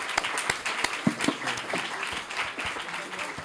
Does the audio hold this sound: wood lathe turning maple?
no